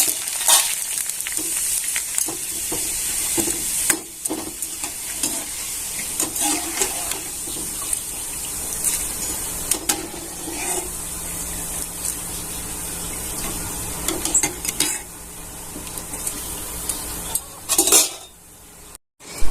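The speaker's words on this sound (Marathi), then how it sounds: "मका पोहे तळायला तेल एकदम कडकडीत करून घ्यायचं" Maize poha frying in very hot oil in a pan gives a steady, close crackling sizzle, with occasional scrapes and clinks of a utensil stirring and the pan being handled.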